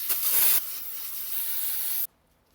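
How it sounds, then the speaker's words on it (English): Brake cleaner sprays from an aerosol can onto engine parts during a WRX engine install: a loud, close, continuous hiss, strongest at the start, easing after half a second, then running steadily until it cuts off abruptly near the end. "So I'm just gonna see if this brake cleaner, yep, will rinse them out a bit."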